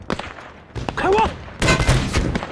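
Gunfire in a war drama about the wartime resistance: a burst of close, loud shots and rattling fire rising over shouted voices, with a brief whistling sound in the middle.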